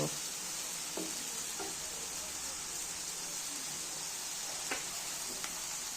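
Potatoes with spices and a little water are stirred in a pan under a faint, constant sizzle, with a few soft scraping taps scattered through.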